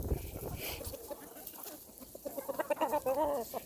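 Hens at a chicken house on a cold, windy day, clucking and murmuring near and far against wind noise, building to a louder run of clucks toward the end.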